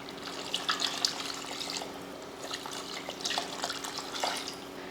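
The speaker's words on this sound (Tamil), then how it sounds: "இப்போ தண்ணி சேர்த்துக்கலாம்." Water poured into chicken kulambu masala in a cooker, a soft steady trickling and splashing with a few brighter bursts, close and fairly quiet, with no talk.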